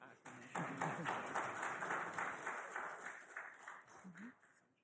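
Council members applaud during a council meeting after a councillor accepts a nomination, a broad wash of clapping with voices talking over it before it fades out.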